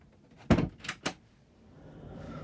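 A cupboard door in a Roller Team Auto-Roller 707 motorhome bumps and clacks shut with three quick knocks close by, followed by a quiet background hum.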